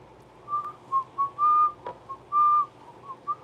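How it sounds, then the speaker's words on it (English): A person whistles a short, halting tune close by, with separate bright notes of uneven length and small gaps between them. "I didn't learn how to whistle until like a year ago."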